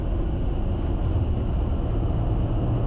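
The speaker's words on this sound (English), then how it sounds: "Reversers deployed." An aircraft landing at Aspen roars steadily with thrust reversers deployed, a dense, loud, unbroken low rumble and rush heard from inside with no voices.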